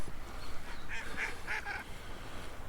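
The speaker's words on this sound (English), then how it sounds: "Loads of ducks on the reservoir." Mallard ducks on a reservoir give a short series of four honking quacks at moderate distance, heard over outdoor wind and ambient noise.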